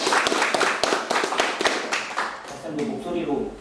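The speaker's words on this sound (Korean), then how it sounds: "박수로 좀 맞이해 주시죠" Scattered clapping from a symposium audience in a hall welcoming a researcher to the stage, a few sharp claps at first, then thinning out, with voices talking underneath.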